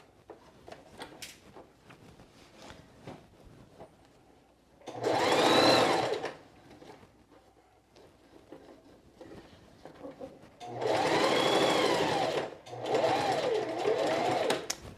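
A sewing machine basting a seam on a quilted jacket: three bursts of rapid whirring stitching, close and loud, separated by quiet pauses with faint handling clicks.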